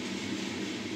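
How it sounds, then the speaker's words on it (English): A passing train gives a steady, loud broadband rumble that fills the whole short stretch without a break, heard indoors in a home kitchen. "sorry for the train going by"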